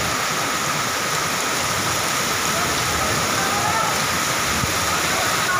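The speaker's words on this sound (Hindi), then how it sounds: "बस सड़क में ऐसा लग रहा है जैसे नदी में परिवर्तित हो गया है।" Floodwater after a cloudburst near Chakhutiya, Uttarakhand, roars down a debris-choked road in a loud, steady, unbroken rush, with no pauses or distinct events.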